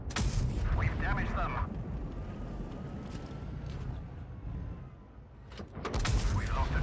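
Tank cannon shots strike armor in World of Tanks Blitz, heavy booming impacts and rumbling game noise that rise and fall throughout, with voices talking over the action.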